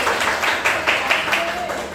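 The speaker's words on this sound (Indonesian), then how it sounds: "Tepuk tangan dulu untuk kalian semua." A classroom of students applauds themselves together with dense, steady clapping that runs the whole time at moderate loudness, with voices mixed in underneath.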